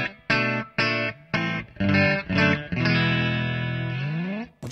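Custom S-style electric guitar plays through distortion and effects: several short chopped chords, then a long sustained ringing chord that fades, up close and without talk.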